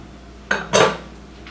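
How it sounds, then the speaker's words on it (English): A utensil clinks and scrapes twice against a measuring cup while salad dressing with ginger, garlic, lemon juice and Dijon mustard is stirred, two short close kitchen sounds without talk. "I'm going to mix everything up in this little measuring cup"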